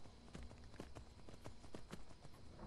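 In Skyrim VR a black horse walks with soft, regular hoof clops, several light knocks spaced in an even gait, faint and unaccompanied by talk.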